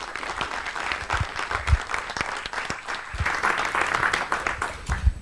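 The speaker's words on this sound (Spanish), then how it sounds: "yo os pido esta vez un doble aplauso por la charla" Conference audience at a maker show applauding after a talk, a full, sustained burst of clapping with a few louder close claps, no voices over it.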